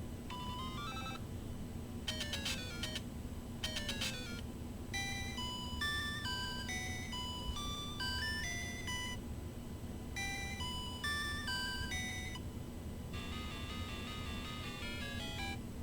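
An ending theme from a Game Boy game, bright chiptune square-wave melody with quick arpeggiated runs over a low steady hum, quiet and continuous with no talking.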